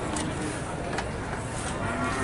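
A large Limousin cow at a livestock market in Nganjuk, East Java, gives a low moo amid steady crowd and market noise, with faint voices in the background.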